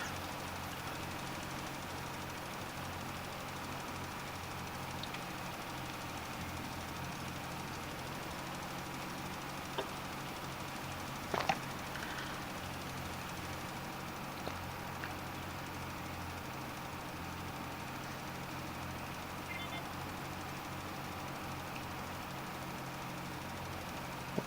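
Tractor engine running steadily as it moves through a field, a constant low droning rumble with faint mechanical rattles and a couple of brief knocks, no talk.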